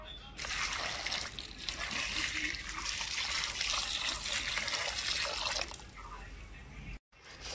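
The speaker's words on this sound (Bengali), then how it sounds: "এবারে ঝিনুকে আমি গরম জল দিয়ে দিচ্ছি।" Hot water pours over oysters in a steady, close splashing rush that runs for several seconds, then thins out and stops briefly near the end.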